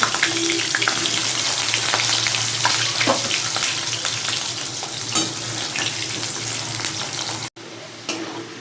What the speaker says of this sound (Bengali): এই তেলে আমি আলুটা ভেজে নেব। আলুটা দিয়ে দিচ্ছি।